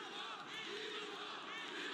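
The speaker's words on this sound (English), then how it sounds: "The crowd is yelling to Bivol, but it's not motivating him." A boxing arena crowd roars and yells at Dmitry Bivol during his bout with Artur Beterbiev, a dense, continuous wall of distant shouting.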